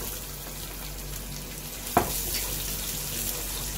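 A faint, steady sizzle comes from garlic and onion frying in a pan for pork pochero, with a single sharp clink of a utensil midway and no talking.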